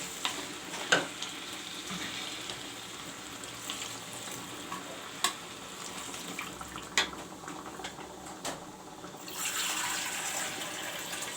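Chicken curry with tomato paste and coriander leaves sizzling in a pan, faint and steady with occasional spoon knocks, then water poured in near the end, raising a louder rushing hiss.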